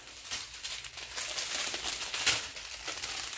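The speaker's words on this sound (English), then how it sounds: "more plastic crinkling" Thin plastic packaging crinkles and rustles in a close, continuous bout while a diamond art kit is unboxed, with denser crackling bursts toward the middle and no talking.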